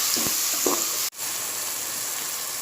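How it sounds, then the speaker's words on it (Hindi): Tomatoes cooking in a pan for mutton akhni, a constant close sizzle with a couple of soft stirring knocks early on, cut by a brief drop-out midway before the sizzle resumes. "अब हम टमाटर नरम होने तक इसे पकाएंगे"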